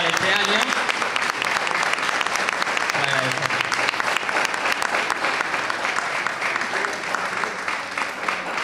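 Sustained applause from an audience at a Spanish event marking the International Day for the Elimination of Violence Against Women, dense and steady throughout, with a voice faintly audible beneath it.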